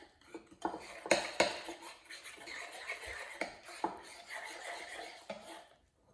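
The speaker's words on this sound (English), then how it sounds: "So I'm stirring it around." Banana bread batter stirred with the flour, salt and baking soda mixture in a bowl, with a spoon scraping and clinking against the sides in irregular close strokes that rise and fade.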